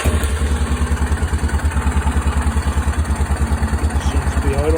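Yamaha Kodiak ATV engine idling after a carburettor replacement, a fast, even chugging pulse, steady and close, with a faint clattery rattle over the low throb.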